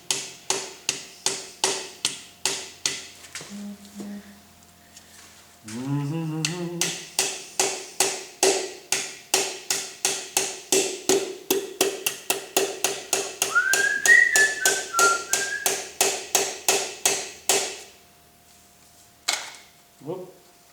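A piston and rod are tapped into a Holden 308 V8 block with a long, quick, even run of sharp, close taps. A short pause breaks the run, and voices and whistling come in between the taps.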